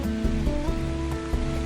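Rain falling outside the Underground River in Palawan, a steady dense hiss of drops on water and surfaces with faint tonal hum underneath, continuous and close.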